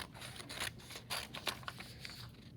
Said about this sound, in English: you will take your scissors and you will just carefully and quickly cut out